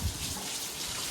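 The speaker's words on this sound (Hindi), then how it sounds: "बाहर बहुत जोरों शोरों से बारिश हो रही है" Heavy rain falling outside, a dense, steady broadband hiss of countless drops with no talking.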